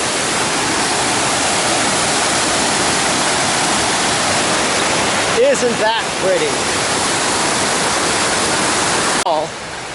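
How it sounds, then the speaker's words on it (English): Dettifoss waterfall in Iceland roars as a steady, loud wash of falling water, with a trail runner's voice breaking in briefly partway through. "All of beautiful waterfalls coming down as we're running on this black cindery ash."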